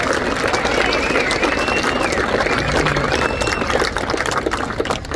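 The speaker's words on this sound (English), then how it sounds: "I would ask that you recognize them with a round of applause as well" Audience applause for the Donnell family at a Mike Ness Day event, a dense, steady roar of clapping with crowd noise sustained throughout, loud and close, tapering slightly near the end.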